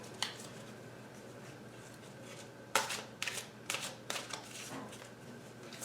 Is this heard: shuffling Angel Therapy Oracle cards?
yes